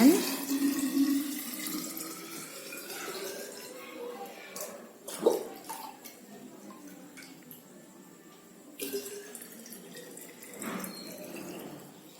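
A small pot of water is poured into a water bottle, giving a steady close trickle with a few brief splashes and drips along the way, fairly quiet and without competing sounds.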